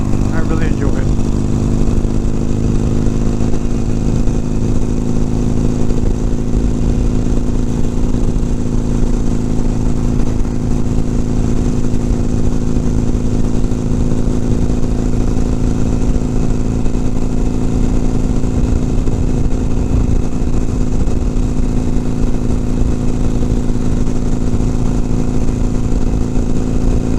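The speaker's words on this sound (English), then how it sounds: "Listen to that Harley run." Harley-Davidson Sportster motorcycle running steadily on a countryside ride, a loud continuous low engine drone with wind rush that stays constant throughout, with no clear change in revs.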